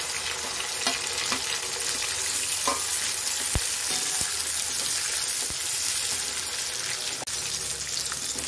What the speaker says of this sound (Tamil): இப்போ இது கூடவே கத்திரிக்காயையும் போட்டு வதக்கிக்கலாம்